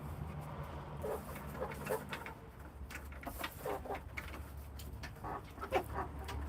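A backyard rooster, one of three kept together, makes soft, intermittent clucks, faint and a little distant against quiet background noise.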